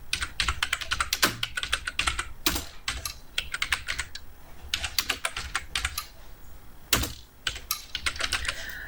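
Assembly language code is typed on a computer keyboard in quick, irregular bursts of sharp, close key clicks, with short pauses between runs and no talking.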